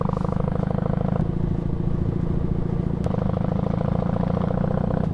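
A motorcycle cruises along the coast of a small Japanese town. Its engine hums in a steady, close drone that never lets up.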